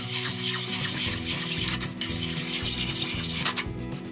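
A Leatherman multitool rasps against a knife blade in close, loud, rhythmic strokes, with a short pause midway before the scraping resumes.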